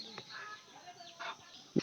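Backyard chickens cluck softly in a few short, scattered calls, faint and fairly close, with a brief louder bump at the end and no talking.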